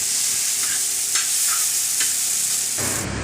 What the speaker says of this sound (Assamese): এতিয়া আমাৰ টেষ্টি চাওমিন ভাজি ৰেডি হৈ গ'ল।